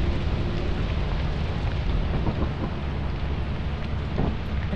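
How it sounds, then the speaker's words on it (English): Steady, dense rain with low rumbling thunder on a planet in the video game Lethal Company, a constant wash of noise with no voices. "It's raining."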